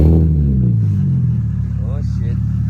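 An Infiniti G37 with a freshly installed exhaust fires up cold at a muffler shop, a loud flare settling quickly into a deep, rumbling idle.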